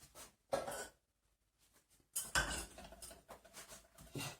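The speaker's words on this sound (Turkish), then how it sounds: "Bunu yan ocağa alıyorum arkadaşlar." A pot of red lentil soup is lifted and set down on a side burner of a home stove, making a few brief metallic clunks and scrapes separated by near silence.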